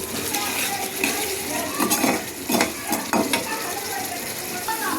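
Spices, tomato and potato being stirred and sautéed in a pan, a steady sizzle with scraping and clinking of a spoon against the pan, close and continuous, with occasional talk.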